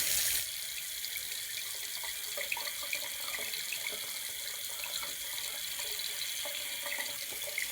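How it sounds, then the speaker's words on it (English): Steady rush of running tap water pouring into a sink while a pBuddy is rinsed beneath it, continuous and close, with small splashes and no talking. "But if you rinse it every day, as shown here, it should stay quite clean."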